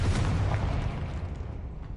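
A deep booming blast from the Confringo fire spell in Hogwarts Legacy rumbles low and fairly quietly, then decays over about two seconds.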